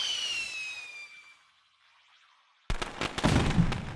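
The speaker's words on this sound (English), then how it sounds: "And that's the basic firework." A LittleBigPlanet 3 firework whistles as it rises and fades, and after a short silence it bursts into a sharp crackling explosion with scattered popping.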